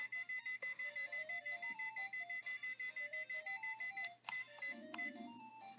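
An oven timer rings in the Imagine: Master Chef video game after a custard pudding bakes, a bright electronic jingle of steady repeated beeping notes, loud and alone, shifting to a different chime near the end.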